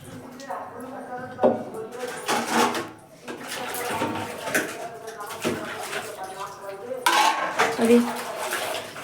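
A wok and other pots and dishes clatter and clang while being scrubbed and rinsed, with metallic knocks and scraping up close and a voice talking intermittently.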